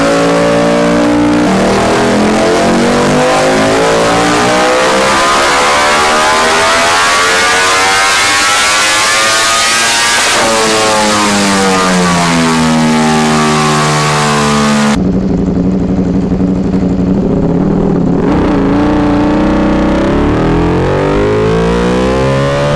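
A Ducati Desmo Sedici RR motorcycle engine revs hard and close, its loud scream sweeping up and down through repeated climbs and drops before settling into a rough, throbbing idle near the end.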